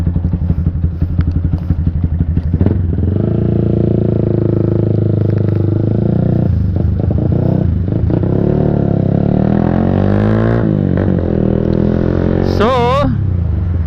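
A KTM RC390 motorcycle pulls away on a test ride, its single-cylinder engine droning loud and close, revving up through several gear changes with wind rush, while a rider's voice speaks briefly over it.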